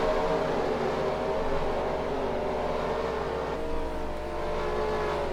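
V8 Supercars race cars in a Lucozade championship round, engines droning steadily and loud at close range with a continuous layered roar that holds without breaks.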